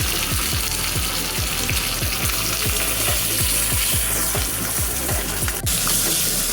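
Mustard seeds, urad dal and curry leaves frying in hot oil for a peanut chutney tempering, a loud steady sizzle with rapid, regular popping crackles throughout.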